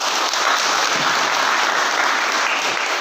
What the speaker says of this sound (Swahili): Tumpigie makofi Mheshimiwa Usidi.